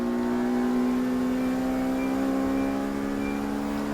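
Racing cars at Brands Hatch, among them a white VW Polo, produce a loud, sustained engine drone holding a steady pitch that climbs slightly, with no talk over it.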